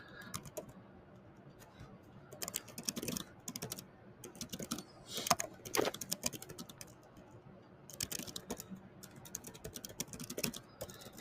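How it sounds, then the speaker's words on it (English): Typing on a computer keyboard, with close, rapid clicking bursts of keystrokes separated by short pauses, continuing steadily throughout with no voices. "Excuse my poor typing."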